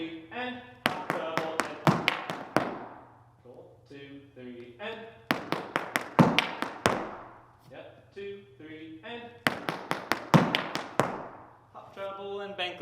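Irish dance hard shoes striking a floor in quick bursts of sharp taps, hops, trebles and heel clicks, repeated in rhythmic phrases between stretches of a person talking and counting.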